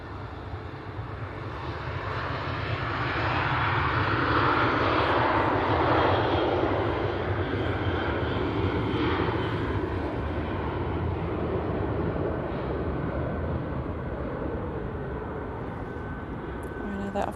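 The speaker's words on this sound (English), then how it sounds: "Got an intersection departure." Airliner taking off from an intersection departure at Manchester Airport, a broad engine roar swelling in the first seconds then holding steady at a distance as it climbs away.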